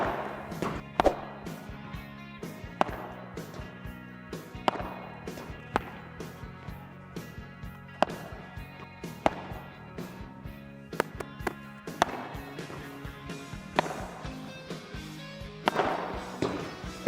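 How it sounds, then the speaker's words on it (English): Padel ball volleys struck with a Tesla padel racket on an early-morning court, heard as a string of sharp, hollow pops about every two seconds over a low background hum. "Let me try some volleys on it."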